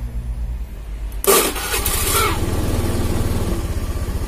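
A motorcycle with weak fuel pump pressure cranks and catches with a sharp burst, then settles into a steady, close rhythmic idle.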